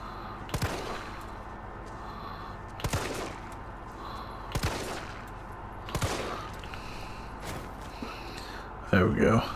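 Gunshots in Resident Evil 3, fired singly at spaced intervals of about two seconds, each a sharp loud crack, with faint breathing and gasps between the shots and a louder jumble at the end.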